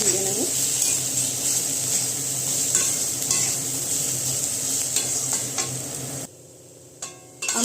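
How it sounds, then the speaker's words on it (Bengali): Desiccated coconut is stir-fried in a pan for a prawn and bitter gourd korma, giving a steady close sizzle with repeated spatula scrapes. The sizzle stops abruptly near the end. "কিছুটা নারকেল গুঁড়ো দিয়ে দিচ্ছি। এটাকে ভালো করে একটুখানি ভেজে নেব।"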